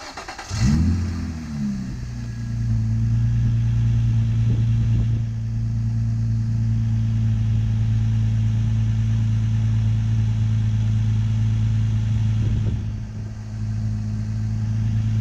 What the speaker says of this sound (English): I'm just gonna start the car and make sure it's running normal